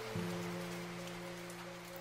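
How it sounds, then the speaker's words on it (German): A visual novel sound effect of rain pattering against window panes makes a steady, continuous soft hiss with a low droning hum beneath it, faint and unbroken throughout. "Kalt und unaufhörlich prasselte der Regen gegen die Fensterscheiben."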